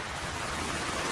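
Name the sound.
heavy rain in an animated story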